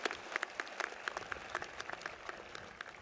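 A graduation audience at a community college ceremony applauds, with many quick hand claps pattering at moderate distance and no voices over them.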